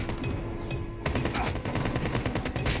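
Assault rifle fire in the mobile shooter game Call of Duty Mobile: loud, sustained automatic bursts with fast, dense shot rhythm and a sharper stretch after the first second.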